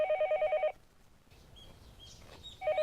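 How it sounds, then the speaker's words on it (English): A telephone rings in the video game Higurashi in short electronic trilling bursts, stops for a quiet stretch with faint chirpy tones, then starts ringing again. "It was then I noticed the phone was ringing."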